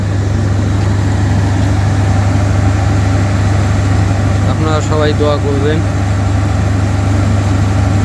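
A train's diesel engine idling after being started, a constant low drone close by and unchanging throughout, while a person speaks over it.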